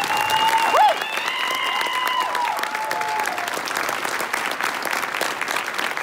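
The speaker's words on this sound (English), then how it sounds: "Give them a round of applause, everybody." Warm round of applause from a graduation audience for a coding class, with clapping and light cheering; a brief whistle-like tone rises near the start before the steady clapping carries on.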